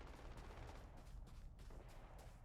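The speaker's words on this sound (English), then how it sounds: "you see there's a lot of gunfire going off." Gunfire in the video game Starfield, a steady, dense barrage of shots with sharp bursts over a rumbling low end, sounding at a distance and continuous throughout.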